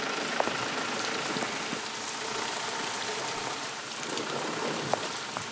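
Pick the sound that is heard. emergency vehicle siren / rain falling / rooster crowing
rain falling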